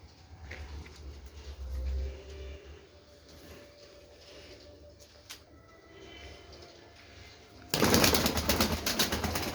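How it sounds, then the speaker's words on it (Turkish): Pet pigeons coo softly in a low, repeated murmur through most of the stretch, before a loud burst of broadband noise covers the final seconds. "Şimdi kuşlarımızı izlemeye devam edelim."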